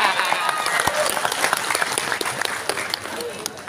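Clapping from an audience at a religious lecture, brisk and close, with scattered sharp claps and voices mixed in.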